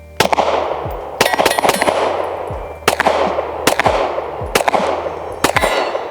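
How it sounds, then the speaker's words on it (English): A Canik Rival pistol fires about seven loud, sharp shots at an outdoor range, each with a ringing tail. Some come as quick pairs and others are spaced out, with short gaps between them. "I'm gonna just shoot a little bit, get a few rounds off."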